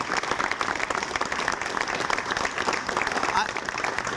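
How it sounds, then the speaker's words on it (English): Sustained applause from an audience at a civic gathering, dense steady clapping throughout at moderate loudness with a faint voice underneath. "they deserve a big round of applause"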